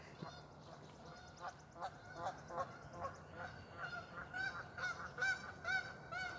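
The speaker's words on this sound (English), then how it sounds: "It's a goose." Goose honking repeatedly outdoors, a series of rhythmic nasal honks at moderate distance, fairly faint over steady background noise, with no talking.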